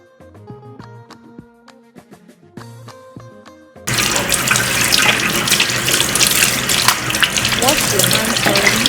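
Tap water runs and splashes steadily into a sink while hands are washed, a loud continuous gush that starts abruptly partway through after quieter kitchen clinks and taps.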